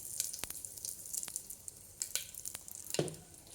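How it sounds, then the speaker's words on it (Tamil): Dried chillies and curry leaves frying in hot oil for a tempering, giving a soft, steady sizzle with scattered sharp pops and crackles, close by and without talk. "தாளிப்புக்கு காஞ்ச மிளகாய், கருவேப்பிலை நல்லா பொரியட்டும்"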